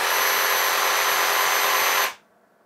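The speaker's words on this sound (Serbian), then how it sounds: "Evo, a pogledate i kako radi kočnica. Bukvalno u deliću sekunde zaustavlja rad." A Bosch GST 18V-Li S cordless jigsaw runs at a loud, constant whine for about two seconds, then its brake stops it abruptly and leaves near silence.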